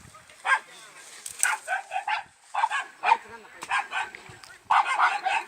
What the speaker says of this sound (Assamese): আকৌ নামিবলৈহে লৈছে কেলাহি কুকুৰকেইটাই ডিষ্টাৰ্ব দিছে না